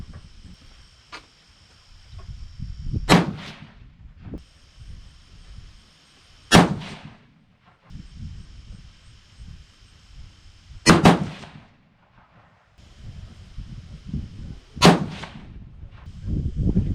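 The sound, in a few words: 6.5 PRC rifle shots, Retumbo powder, Hornady 153gr A-Tips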